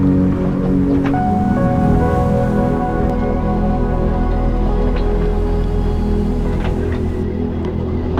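Continuous rushing sea and wind noise aboard a sailing boat in heavy North Atlantic waves, with a low engine-like drone underneath, steady throughout, with faint higher tones drifting through.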